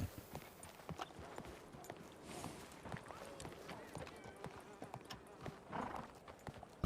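Horse hooves clip-clopping at night as a horse-drawn cart passes, a faint irregular string of knocks in the background beneath people talking.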